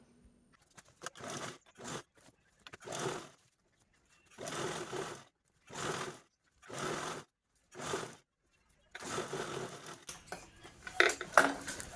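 A sewing machine stitches fabric from an old gown in several short bursts of rapid mechanical rattling with pauses between them, close by and fairly loud, with a longer, busier stretch at the end.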